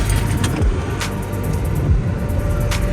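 A car engine hums steadily up close as the vehicle begins to pull away, with a few faint clicks and rattles over the constant motor noise.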